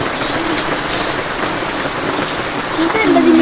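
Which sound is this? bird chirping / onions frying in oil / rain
rain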